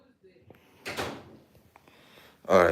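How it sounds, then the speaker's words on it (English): A house door closing: a soft swish of movement followed near the end by a firmer thud and rattle, fairly quiet overall with brief faint voices before it. "Close the door."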